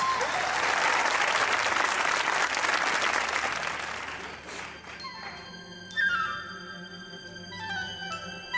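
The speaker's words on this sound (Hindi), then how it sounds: "ताली" Loud, dense studio audience applause from a Geo News comedy show fills the first four seconds, then fades out as a piano-like musical intro begins.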